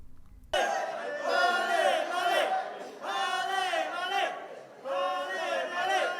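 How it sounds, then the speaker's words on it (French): A crowd gathered outside a hotel awaiting the arriving football finalists, shouting and chanting in loud waves that rise and fall after a sudden start. "À leur arrivée à l'hôtel, une foule attendait déjà les finalistes malheureux de la dernière CAN."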